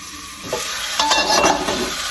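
Jaffna-style spicy crab curry stirred in a pan after simmering under a lid, with scraping, clattering strokes of the spoon over a continuous bubbling sizzle, close and fairly loud.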